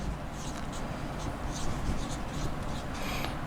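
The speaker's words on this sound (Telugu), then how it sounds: "ఇక్కడ రాస్తున్నాను శ్రీకృష్ణ భట్" Chalk or marker scratching steadily across a board in a classroom lesson, a continuous rubbing scrawl for a few seconds, close and fairly loud.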